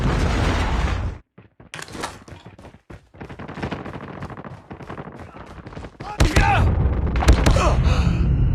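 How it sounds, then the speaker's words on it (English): A Predator missile strike in Call of Duty multiplayer: scattered gunfire and thuds through a quiet stretch, then a loud, heavy blast rolls in and rumbles on through the final seconds. "Friendly Predator missile inbound."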